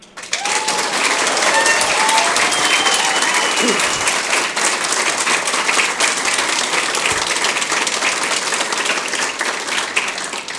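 An audience gives sustained, dense applause for Small Business Administration administrator Linda McMahon at SBA Day 2017, loud and steady for about ten seconds with no pause.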